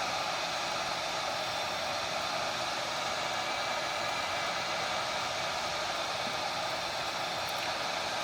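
A hair dryer blows steadily on a plastic part from a 1981 Stern Lightning pinball playfield, giving a constant, moderately quiet airy whoosh that runs unbroken throughout with no talk.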